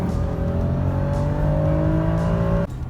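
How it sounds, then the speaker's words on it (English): An Acura NSX exhaust note drones steadily while driving through a tunnel with the windows down, a smooth rising engine tone echoing close, then cutting off abruptly near the end. "with the windows down and driving through a tunnel, I finally have that exotic yet unique sound coming out of the rear end of this thing."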